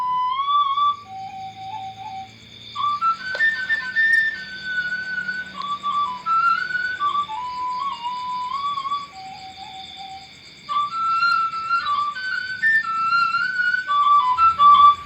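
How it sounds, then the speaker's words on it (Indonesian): A suling, the Javanese bamboo flute, plays a breathy melody of sliding and held notes with short pauses, clear and close, alone without any voices. "Berikut adalah contoh bunyi dari suling."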